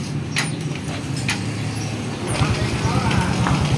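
A Honda XRM 125 motorcycle with a compression-loss fault and a freshly refitted exhaust pipe is kick-started; it catches after a couple of seconds and settles into a low, steady thumping idle, with someone talking over it.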